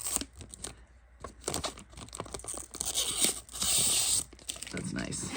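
Plastic film peeled from a PSA-graded sports card slab, a crinkly tearing and crackling sound in bursts with close scratchy rustles throughout, growing longer and steadier toward the end.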